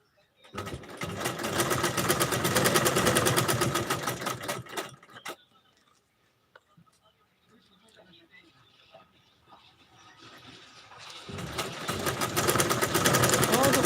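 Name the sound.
sewing machine running in a tailor shop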